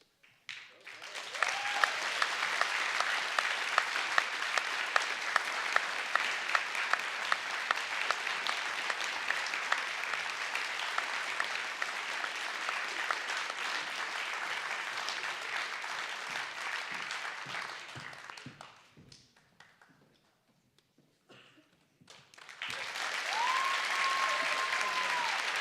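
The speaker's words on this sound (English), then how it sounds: "hand out the prizes to what it will be a thunderous round of applause" Sustained audience applause at a prize presentation following an advocacy debate, a dense roar of clapping that runs for about eighteen seconds, dies away briefly, then swells again near the end.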